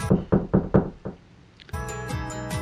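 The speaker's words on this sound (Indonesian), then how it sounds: "Petrus lalu mengetok pintu rumah itu." Five firm knocks on a house door in a steady rhythm, close and loud, then a short pause before a bright chiming musical passage takes over.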